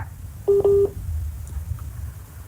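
A short electronic telephone tone plays as a pair of steady beeps close together, loud over a low background hum, then fades to quiet room noise.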